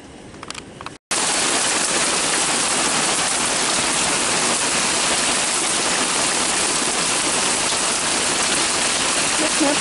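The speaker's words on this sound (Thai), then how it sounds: "ลูกเห็บตกพี่น้องเอ้ยอยู่เดนมาร์กวันนี้นี่ลูกเห็บตก" Hail pelting down outdoors in Denmark on a cold day around 12 degrees, a dense, steady roar of hard pellets striking surfaces that fills nearly the whole clip after a brief quiet start with faint murmurs.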